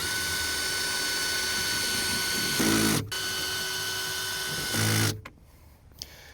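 Power driver running screws into the door panel of a 1997-2001 Jeep Cherokee XJ, a loud continuous whirring buzz in long stretches, with a stop and a final clicking as the tool shuts off.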